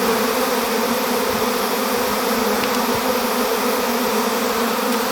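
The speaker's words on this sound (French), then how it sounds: "Il y a quelques abeilles, mais bon elles vont se dispatcher, elles vont remonter." A large swarm of honeybees at a château gives off a thick, steady drone of buzzing with no break. It is loud and near, holding an even hum throughout, and no voice is heard.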